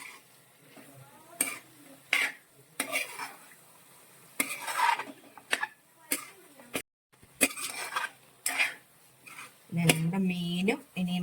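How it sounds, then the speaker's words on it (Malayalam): A spoon stirs and scrapes fried fish through a thick masala in a pan in irregular bursts, with light clinks against the metal and a short voice near the end. "നമ്മൾ മീൻ വറുത്ത് വെച്ചിരിക്കുന്ന മീനും കൂടി ചേർത്ത് ഇളക്കുവാണേ"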